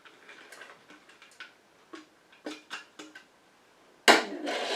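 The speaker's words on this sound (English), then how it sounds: "this super great shea butter, which I need to cut it in smaller pieces to put it in here" Shea butter being cut into smaller pieces by hand for a castor oil lotion, heard as a series of soft, sharp ticks and taps spaced irregularly, growing louder near the end with a scraping burst.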